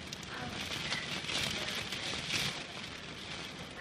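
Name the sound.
heavy rain during a big storm at the beach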